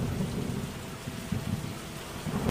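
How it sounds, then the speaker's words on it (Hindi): Heavy rain pouring down over a forest at night in a dense, steady roar, with low rumbles of thunder rolling underneath. "बिना मौसम के इतनी भारी बारिश"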